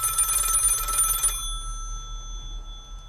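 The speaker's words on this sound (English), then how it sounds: "Is that the studio phone?" A studio telephone rings with one loud, close electronic burst lasting just over a second, then a faint hum as it stops, with no talking.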